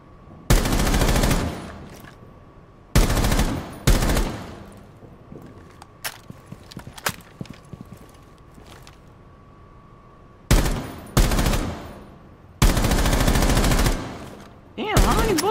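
Bursts of automatic gunfire in Rainbow Six Siege, loud close volleys at the start and end with a quieter stretch of scattered single shots and clicks between them.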